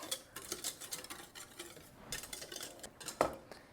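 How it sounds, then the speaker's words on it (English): A whisk scrapes and taps in a saucepan, mixing sugar, cornstarch and salt for a banana pudding pie, a quiet irregular metallic clatter with one louder clink near the end. "So we're gonna start by adding our sugar, cornstarch, and some salt. Go ahead and whisk that around."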